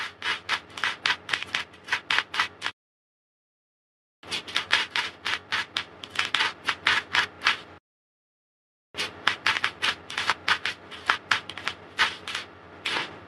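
Tarot cards are handled and drawn in quick rubbing, riffling bursts. The close, papery flicks come in three runs separated by short silences, and no one speaks.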